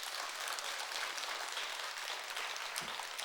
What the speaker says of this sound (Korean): 이럴 때 박수 쳐야 되는데.